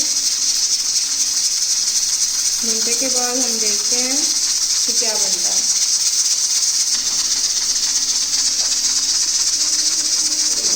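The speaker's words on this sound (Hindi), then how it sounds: "आप देख सकते हैं तो प्रेशर कुकर की रेट चल चुकी है।" A pressure cooker of mutton paya (goat trotters) hisses with a constant, loud, high steam jet while a voice speaks briefly over it.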